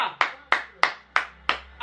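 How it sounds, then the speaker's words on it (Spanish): Five sharp hand claps at an even, slow rhythm, close and fairly loud, with a faint low hum underneath, heard during a live reaction to a Unión Magdalena vs Junior Copa semifinal football match. "¡Aplauso!"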